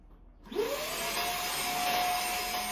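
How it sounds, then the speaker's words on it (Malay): A vacuum cleaner with strong suction switches on after about half a second of quiet, rising to a loud, steady whooshing roar with a high whine that holds to the end. "Dia punya sedutan yang memang cukup kuat kan."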